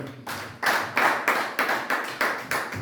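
Church congregation clapping together in a steady rhythm of about ten even claps, fairly close and loud, filling a worship hall with no speech over it.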